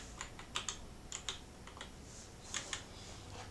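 Soft typing on a computer keyboard, a quiet irregular run of key clicks in small clusters with brief pauses, heard alone without talk.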